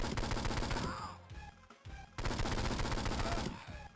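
Turret gunfire in the Game Boy Advance game 007: Nightfire, a loud continuous stream of rapid shots that breaks off briefly in the middle and then resumes just as dense.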